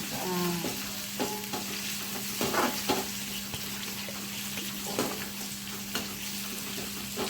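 Brinjal pieces fry in a pan, making a continuous close sizzle with scattered soft stirring scrapes and occasional bursts of crackling throughout.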